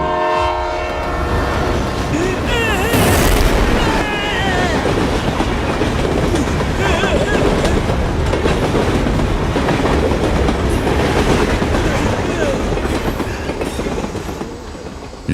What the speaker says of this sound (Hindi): ये बिना पटरी के ट्रेन कहाँ से आ गई?